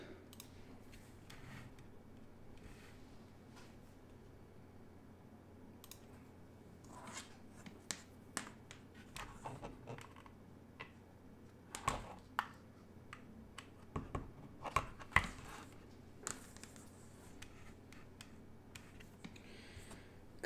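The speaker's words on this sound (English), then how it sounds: "let's do a quick typing test" Keys are typed on a mechanical keyboard with Revo White switches in a 3D-printed Zlant case, giving sparse clicks that build into quicker bursts of sharp, close clacks over a quiet background.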